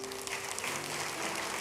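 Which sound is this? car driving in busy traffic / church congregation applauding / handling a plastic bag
church congregation applauding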